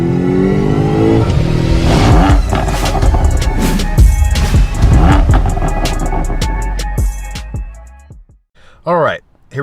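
A cold BMW car engine fires up and revs, building into loud accelerating engine noise, then drops away, with someone talking briefly near the end.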